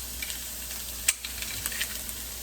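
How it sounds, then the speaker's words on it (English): Garlic cloves in oil sizzle faintly in a pan, a soft steady hiss broken by a few small crackles and pops. "You can hear that sizzling."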